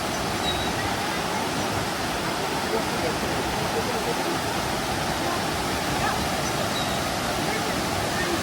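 Water pouring down Dunn River Falls in Jamaica, a steady, broad rushing roar that stays even and unbroken throughout, with no voices over it.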